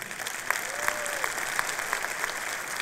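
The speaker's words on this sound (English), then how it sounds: "We please applaud our magnificent faculty." An audience at a convocation and commencement ceremony in Houston applauds the faculty, a steady dense wash of clapping from a large room with a brief voice passing over it.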